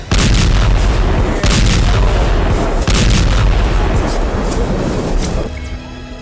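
Heavy bombing at the Indonesian hospital in Gaza rolls in as a dense, sustained barrage of loud booms and rumbling blasts, one burst after another, before fading at the end.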